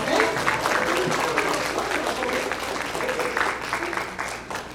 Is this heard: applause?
yes